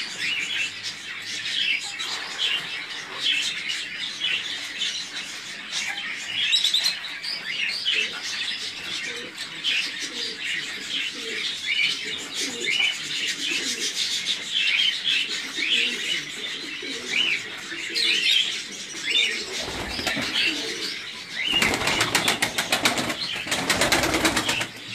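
Istanbul breed pigeons, a tumbling pair, flutter and call in a loft, with a steady wash of chirps and coos throughout and louder bursts of wing flapping near the end.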